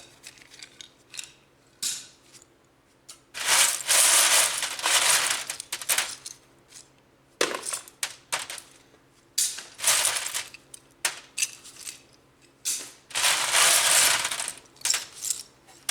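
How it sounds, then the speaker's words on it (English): Scrap brass and metal bits clatter and jingle as they tumble through a half-inch screen, in close, bright bursts of metallic rattling separated by short pauses, with no speech. "Most of the metal bits are actually falling through. All the brass and stuff is falling through this 1/2-inch screen."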